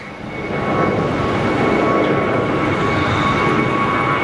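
An airplane at Sky Harbor Airport roars steadily, swelling in over the first half second and then holding as a loud, continuous drone with a faint whine, with no voices.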